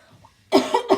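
A woman who is feeling unwell gives a sudden close harsh cough, a sharp double burst after a brief quiet moment.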